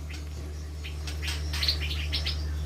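A sooty-headed bulbul (cucak jenggot) in an aviary gives a quick series of bright chirps over a steady low hum.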